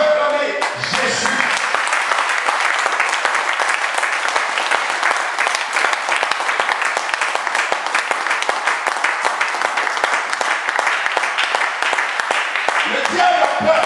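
Church congregation applauding Jesus with loud, dense, sustained clapping that fills the hall for many seconds, a voice rising briefly near the start and end.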